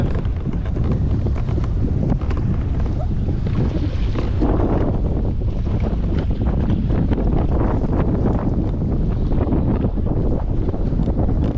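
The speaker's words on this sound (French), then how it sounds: "Le vent se lève, il y a un coup de vent qui arrive là." Strong gust of wind at sea during kayak fishing, a loud constant roar of wind buffeting the microphone, with water sloshing and waves slapping close by, and almost no talk.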